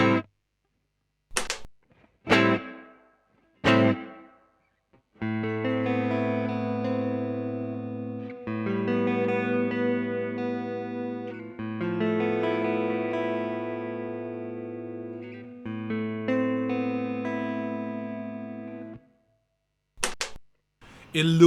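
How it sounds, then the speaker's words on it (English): Electric guitar runs through an Eventide H9 set to a plate reverb preset on an ES-8 switched pedalboard. A few short plucked notes come first, then long, ringing chords with smooth reverb tails, played alone and fairly close. "in loop number 6, I connect to an Eventide H9, which in this preset I set it to a plate reverb"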